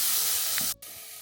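Butter sizzling and slightly burning in a pan while cooking, giving a loud, close, steady hiss that cuts out abruptly for an instant and then resumes.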